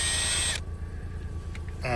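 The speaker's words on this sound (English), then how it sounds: "So got my drill here" A handheld electric drill whines steadily near a car bonnet latch on an Audi TT MK2, a continuous close motor hum with the pitch shifting at the start and end.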